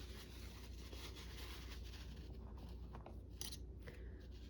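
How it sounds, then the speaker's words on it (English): Scissors trimming material along a marked line, a steady run of soft, close snipping and rasping cuts against a constant low background hum. "So I'm just going to trim it as much as I can along that line."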